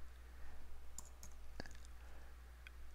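Several sharp, quiet computer mouse clicks spaced apart, on a computer running QRadar searches, with a steady low hum underneath and no talking.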